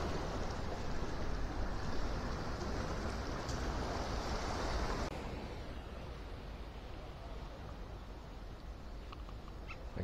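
High ocean waves wash and rumble inside a harbour bay after the wind has dropped, a continuous broadband roar that softens noticeably halfway through, heard alone without talk.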